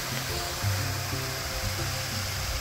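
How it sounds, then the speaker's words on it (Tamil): Water pours steadily down a small forest waterfall in Kodayar Forest, Kanyakumari, a continuous close rushing wash with no voices over it. "இதுதான் ஒரு சின்ன ஃபால்ஸ் மாதிரி தண்ணி பாஞ்சிட்டு இருக்குது."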